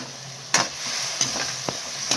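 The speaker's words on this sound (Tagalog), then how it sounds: "ilagay natin yung sabaw ng pineapple chunk" Pineapple chunk juice poured into sweet and sour cream dory frying in a pan, a steady close sizzle with several sharp stirring scrapes and splashes.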